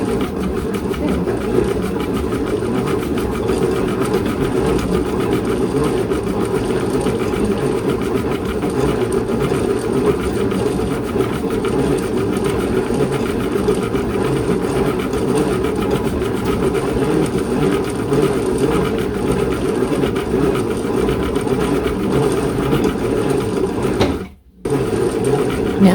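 A hand-turned ball winder winds yarn with a continuous close mechanical whir and rattle that runs steadily for the whole stretch, with a brief pause near the end and no talking.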